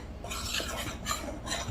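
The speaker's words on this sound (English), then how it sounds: "I'm going to mix that completely so that they're mixed together" Tart crust ingredients being mixed in a bowl with a utensil, a steady scraping and clinking of metal against the bowl with no talk.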